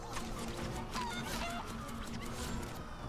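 Chickens from chicken throwers cluck and honk in the Comic Jumper video game, a steady busy layer of fowl calls mixed with game effects, no talking.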